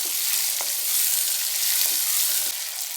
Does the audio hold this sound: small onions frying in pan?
yes